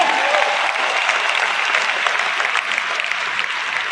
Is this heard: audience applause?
yes